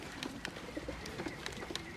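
Punjabi pigeons coo softly in repeated throaty bursts, several birds close by over a faint background hum.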